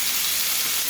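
Steak sizzling in a hot pan while cooking a Zambian meal, a steady close hiss with no break and no voices, heard for under a second.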